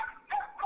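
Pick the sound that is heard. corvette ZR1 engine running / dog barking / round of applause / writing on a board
dog barking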